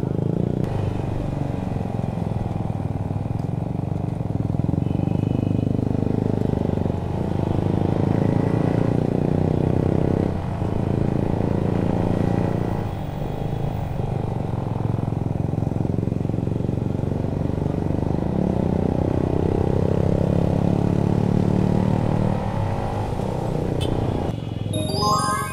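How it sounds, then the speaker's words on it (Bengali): A modified Yamaha R15 V2 motorcycle with a free-flow performance exhaust runs close by as a continuous loud drone that swells and eases with throttle for about twenty-five seconds. "এটা পারফরম্যান্সের এক্সস্ট, পুরো পারফরম্যান্স মোড করা বাইকটা"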